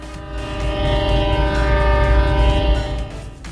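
A train in the Trainz video game rolls along as it backs onto a siding, a steady loud rumble carrying a sustained tonal horn-like drone that swells and fades, with no talking.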